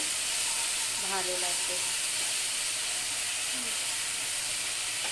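Cumin, ginger and green chilli paste fries in a pan with a steady, close sizzle and hiss that runs throughout, while a voice speaks briefly over it.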